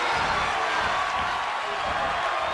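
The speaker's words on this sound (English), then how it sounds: "The sound of this crowd is deafening, and he's asking for more." Crowd roar from a WWE 2K22 wrestling arena, a steady dense wash of cheering that stays loud and unbroken without clear peaks.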